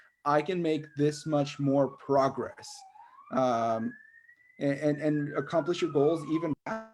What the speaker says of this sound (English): I do live near a fire station, so I apologize for the fire sirens.